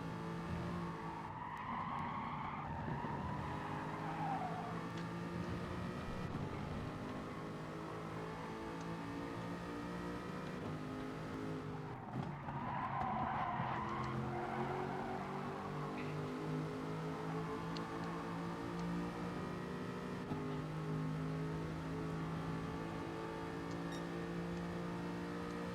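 A race car in a racing video game spins out, its engine droning and revving steadily while tires squeal in two distinct skids, one early and one about halfway through.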